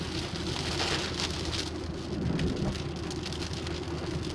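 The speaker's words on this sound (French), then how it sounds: "Pourquoi là il y a une averse comme ça là qui arrive?" A sudden rain shower pours down outdoors as a dense, steady hiss of falling drops and spatter on surfaces, loud and continuous, with no talking.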